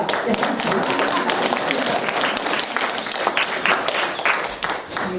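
A congregation claps hands together in a service, a full, busy burst of many hands with sharp individual slaps standing out, loud and continuous, with some voices mixed in.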